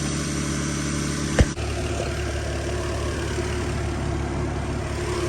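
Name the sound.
Nissan S13 with 2JZ-GE engine idling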